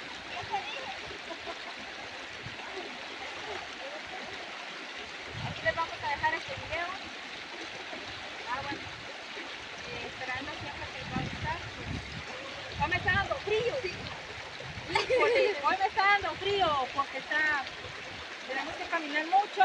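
A river flowing at the end of a long walking path on the way to a farm, a steady broadband rush of water running throughout, with occasional splashy surges and people talking intermittently over it.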